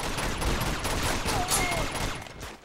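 Sustained gunfire in the Uncharted 2 video game, with dense bursts of shots continuing steadily at a loud level. A voice murmurs faintly underneath.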